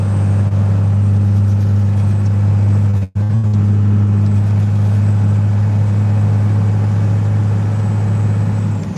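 A truck hauling a load of wood, with an ageing thermostat, drones loudly in a steady low hum, cuts out briefly early on as it shifts into sixth gear, then resumes at a constant pitch with no talk.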